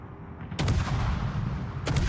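Guns on the Dutch Tier 9 destroyer Groningen in World of Warships boom twice, about a second apart, each blast deep and loud with a rumbling tail over steady engine and sea noise.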